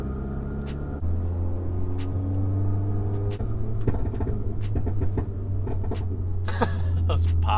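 Volkswagen Golf R exhaust sounds off close by, a deep running drone broken by sharp, loud pops and crackles that come in irregular bursts.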